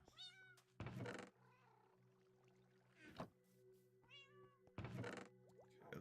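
A cat meows several times in Minecraft, short high-pitched calls spaced apart, with a few loud thuds and a low steady hum in between.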